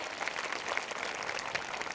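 Audience applause at a school gathering, a steady wash of many hands clapping at moderate distance, sustained evenly throughout with no voices over it.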